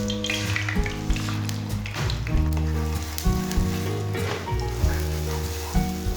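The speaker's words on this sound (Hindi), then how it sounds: "ऑयल हमारा गरम हो चुका है। मिक्स किए हुए अंडे डाल लेंगे।" Beaten eggs hiss and sizzle in hot oil in a pan while cooking for an egg cheese paratha. A soft, steady crackle runs beneath prominent background music.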